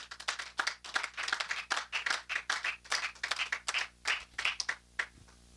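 A prayer-meeting congregation claps together in a brisk, steady rhythm, loud, close hand claps repeating evenly for several seconds with no voices.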